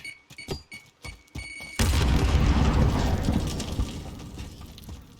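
Semtex grenade blast in PUBG, a battle royale shooter: a few sharp pops and clicks, then a sudden loud boom with a rumbling, crackling tail that slowly fades over several seconds.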